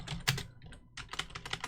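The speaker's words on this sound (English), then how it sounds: "hopefully the clicky keyboard is not too loud" Clicky computer keyboard typed on in quick uneven bursts of sharp, close keystrokes, heard alone without speech.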